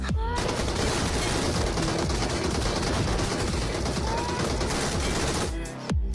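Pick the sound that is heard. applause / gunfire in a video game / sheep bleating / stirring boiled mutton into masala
gunfire in a video game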